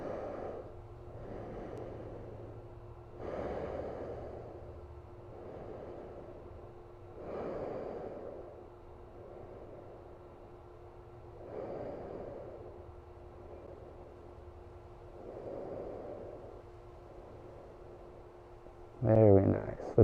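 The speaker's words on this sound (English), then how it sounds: "And then just breathe." Slow deep breaths during a beginner's yoga pose, a steady series of soft inhale and exhale swells repeating every few seconds, faint and close, with a brief louder rustle at the end.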